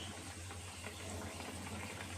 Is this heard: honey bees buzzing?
no